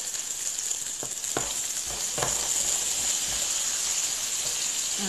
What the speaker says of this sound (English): And then we're gonna fry this about a minute.